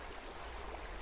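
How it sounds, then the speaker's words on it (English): A waterfall in a video game gives a steady, even rush of water that fills the whole clip at moderate level, with no voices over it. "Oh, it is waterfall. It was a waterfall,"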